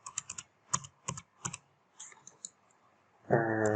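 Crisp, close computer clicks sound in quick pairs and singles at an uneven pace, then a sudden buzzy tone comes in at the end.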